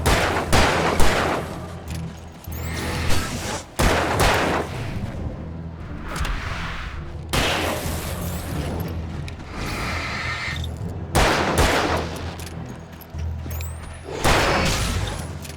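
Gunfire while fighting enemies in the video game Alan Wake Remastered, with repeated loud shots in bursts and rumbling blasts, dense and close, with some brief mechanical clicks between volleys.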